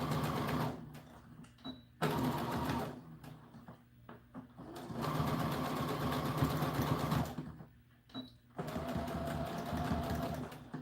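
A sewing machine stitches doll dress fabric in steady whirring runs of a few seconds each, broken by short pauses, close and moderately loud with no voices.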